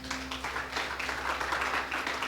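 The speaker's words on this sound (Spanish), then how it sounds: "Dele un aplauso al Señor." A congregation applauding during a church service, a moderate wash of many hands clapping steadily, somewhat distant, with a faint hum underneath.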